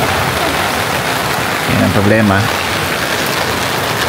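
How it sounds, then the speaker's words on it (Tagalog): Steady rain hisses evenly throughout on a hike in Catanduanes, Philippines, with a brief voice murmuring faintly underneath near the middle. "Umuulan."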